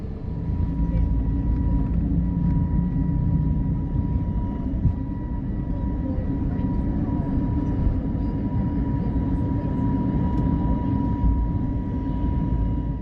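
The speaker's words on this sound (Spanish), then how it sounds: "Y despegamos." A Sky Airline Airbus A321neo takes off, heard from inside the cabin as a loud, steady engine roar with a constant hum and no pauses.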